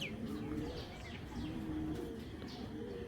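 Low, soft cooing from Pakistani pigeons rolls in repeated phrases over a steady background, with faint chirps scattered above.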